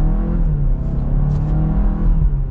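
A Kia Sorento EX Turbo with a dual-clutch transmission accelerating hard, its engine droning loud and close with brief dips in pitch as quick gear shifts come through.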